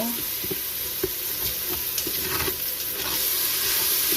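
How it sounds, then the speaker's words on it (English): Vegetables sautéing in leftover pork chop oil in a kitchen, a steady loud sizzle with the scrape and clack of a turner stirring through the pan. "coat those in the oil from the pork chops, and we're going to let those saute for a few minutes"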